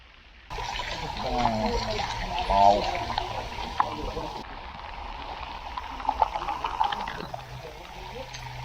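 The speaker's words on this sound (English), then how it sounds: "there's the waterfall, which is really, really hot" Steady rushing, splashing water from a hot spring waterfall in the Taupo Volcanic Zone runs throughout, close and continuous, with a voice talking over it early on.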